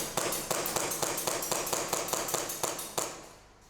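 A Novritsch SSP28 airsoft pistol fed from a Marui magazine fires a steady run of about ten sharp semi-auto shots, evenly spaced roughly a quarter second apart, close and crisp with no talking.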